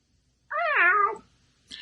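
A single clear, drawn-out cat meow, loud and close, standing alone in quiet, followed by a brief faint sound near the end; used as an effect for the Icelandic Yule Cat legend.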